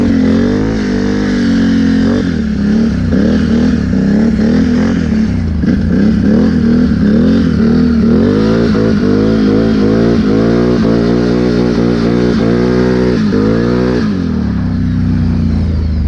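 A Can-Am Renegade 1000 ATV on Interco Interforce 2 tires revs hard and continuously, its engine pitch rising and falling through repeated throttle swells over a steady loud drone, close up without talk.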